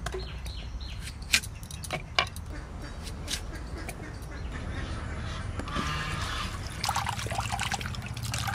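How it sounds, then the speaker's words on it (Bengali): Peeled mankochu (giant taro) being washed by hand in water, with soft splashing, trickling and dripping under steady low background noise and a few sharper sloshes, no talking. "দুই তিন ধোয়া দিয়ে নেব, ভালো করে পরিষ্কার করে ধুই।"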